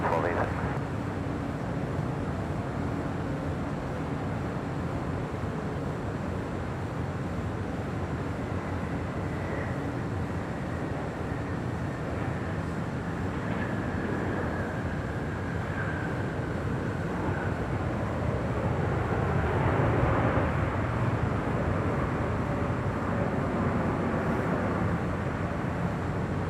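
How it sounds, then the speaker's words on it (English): An American Airlines Boeing 777-300ER arriving from London lands at LAX, a low, steady distant jet roar lasting the whole stretch with a faint rising whine, under occasional background talk. "That is American Airlines flight 135 coming in from London on that 777-300ER"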